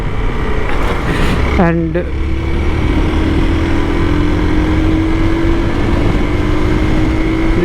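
Hero Xpulse 200 motorcycle on off-road tires cruising in fifth gear at around 100 km/h, a steady droning engine hum with heavy wind rush throughout, someone talking over it.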